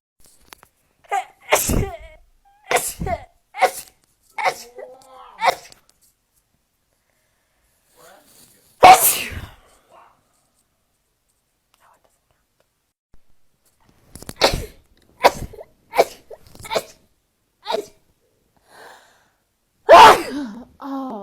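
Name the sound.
person sneezing repeatedly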